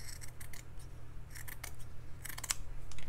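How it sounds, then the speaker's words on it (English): Scissors snip through a piece of 5-inch burlap fabric, making several crisp close cuts in uneven bursts with short pauses between them and no speech. "So I'm just going to cut a piece."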